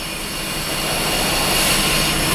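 A Honda Civic engine idles with its A/C compressor engaged, producing a loud, steady broadband whir and hum that swells slightly and holds without a break.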